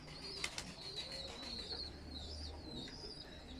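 Tumbler pigeons coo softly after a training flight, with faint chirps and a brief wing flutter early on over a low steady background hum.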